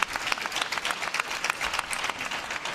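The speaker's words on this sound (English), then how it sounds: "Team China rise to applaud their leader." Team China players and staff stand and applaud their leader during a World Team Table Tennis Championships final in London, a dense, steady burst of clapping from a crowd at moderate distance.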